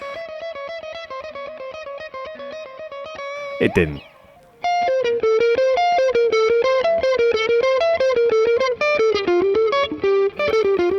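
An electric guitar with heavy distortion holds a long note, then plays a quick, steady run of notes. A person briefly speaks in between.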